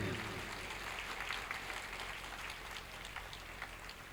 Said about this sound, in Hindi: बच्चों तालियां थोड़ा तेज कीजिए।